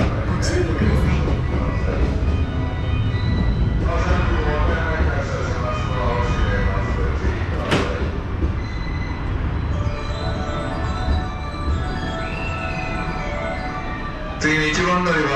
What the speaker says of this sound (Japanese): まもなく電車が発車します。